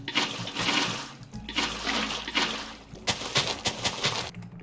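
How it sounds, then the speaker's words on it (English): Water blocks being placed in Minecraft Bedrock Edition give loud, repeated sloshing gushes of water, several splashy pours in quick succession with no voices. "So let's fill those water blocks in here."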